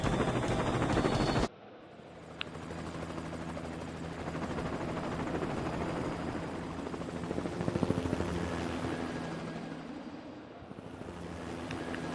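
Steady whirring rotor drone of a cartoon helicopter in a children's video game, continuous and fairly loud after a short burst of game music, with a brief click partway through and no speech.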